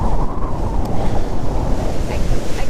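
Wind and breaking waves roar steadily around a sailboat on a cold, windy day at sea, a loud continuous rush of water and gusting wind buffeting the microphone, with no voices.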